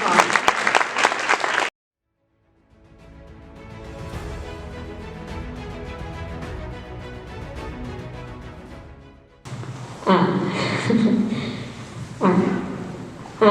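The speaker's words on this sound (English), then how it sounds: "Big round of applause." Audience applause at a school awards ceremony, a steady wash of clapping from a room full of people that swells and holds for several seconds between stretches of a voice speaking over a PA.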